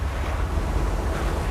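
Wind and surf on the shore of Lake Michigan, a steady broad roar of breaking waves with heavy wind rumble against the microphone, continuous and close throughout.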